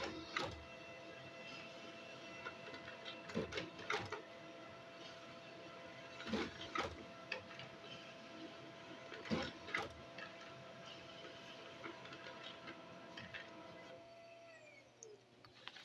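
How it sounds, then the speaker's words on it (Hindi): An office printer printing a document from Microsoft Word runs steadily for about fifteen seconds, with mechanical whirring and several sharp clicks and clunks as pages feed, then winds down near the end. "और अब मैं यहाँ से प्रिंट ऑर्डर दे देता हूँ।"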